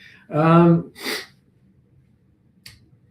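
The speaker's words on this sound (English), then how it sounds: "Oh, I'm going to sneeze." A single sharp sneeze bursts out close by, a breathy intake followed by the explosive release, then a small click and quiet.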